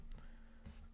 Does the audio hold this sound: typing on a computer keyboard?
yes